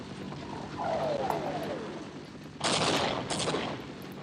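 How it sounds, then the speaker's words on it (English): Mortar fire in the game Half-Life: muffled booming blasts, one larger burst followed by a second, against a constant noisy game ambience with a faint descending whine, fairly quiet overall. "So there's clearly a mortar gun shooting here."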